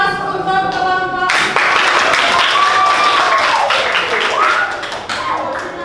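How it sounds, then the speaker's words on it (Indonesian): Classroom applause for a presenting student group, a burst of many hands clapping that starts abruptly and carries on briskly, close and fairly loud, with voices talking over it. "Ya, aplaus untuk kelompok"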